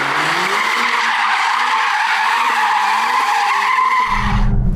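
Mercedes-AMG A45 S tyres squeal steadily on a skid pad, a continuous loud screech with a wavering engine note underneath, ending in a low rumble near the close.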